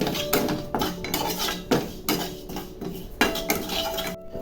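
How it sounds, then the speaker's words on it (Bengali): White sesame seeds being lightly dry-roasted in a pan, with a utensil scraping and clinking against the metal in an uneven, close rhythm, with no voices. "এটা হচ্ছে সাদা তিল। এই সাদা তিলটা আমার ওতে লাগবে। এটা আমি একটু হালকা রোস্ট করে নেব।"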